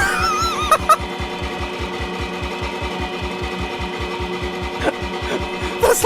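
Many Minecraft note blocks with mixed note types sound together in a rapid, steady mechanical pulse, producing a clashing, dissonant, buzzing stream with occasional higher plinks, loud and continuous.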